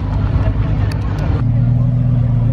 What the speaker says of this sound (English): another car departing